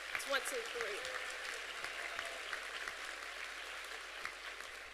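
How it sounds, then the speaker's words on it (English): Audience applause at a high school graduation ceremony, a faint, distant wash of clapping that carries on steadily in a large space, with a voice briefly heard over the start. "please give your teachers, your staff, your family, and your friends a round of applause"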